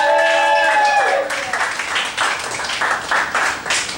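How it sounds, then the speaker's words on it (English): A church meeting audience bursts into loud applause and clapping that runs under a brief spoken voice and continues with uneven bursts. "Give him a round of applause."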